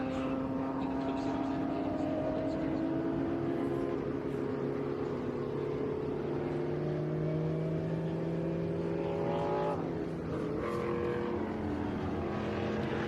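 A GTO race car drives past on a track, its engine note rising and sweeping in pitch as it approaches and then fades off, loud and continuous over a distant hum.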